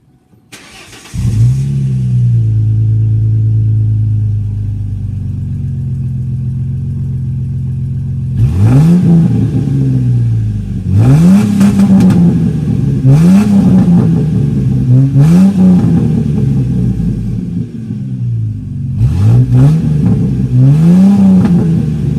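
A loud straight-piped V6 engine in a 2002 Ford Mustang with dual exhaust idles with a deep rumble, then revs hard in several sharp bursts, each swelling and dropping back, close by.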